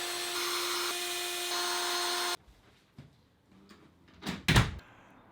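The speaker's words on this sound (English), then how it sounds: "I'm going to drill the holes, whack it up on the side of the office" A power drill whines steadily for about two seconds drilling holes in an office wall, then stops, followed by quieter clunks and a couple of short scraping knocks.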